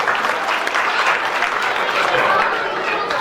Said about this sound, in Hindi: कम से कम ताली तो बजा दो जो भी